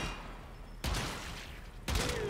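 In the game Warframe, a Zenith rifle fires in semi-auto mode. There are two sharp, separate shots about a second apart, each with a short ringing tail over a low background hum.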